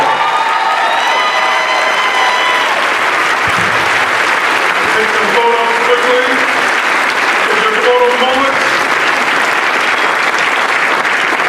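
Audience applause fills the hall at the 2017 Aurora mayoral inauguration as the gavel passes to the new mayor, steady broad clapping with some cheering, a voice talking over it near the start and later.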